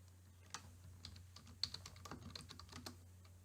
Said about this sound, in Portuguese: vou ativar aqui o título e vou digitar aqui